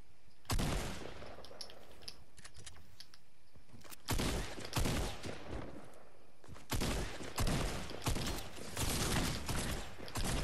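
Dense volleys of automatic gunfire in Fortnite, crackling in several clusters separated by brief lulls, fairly quiet overall with no talking.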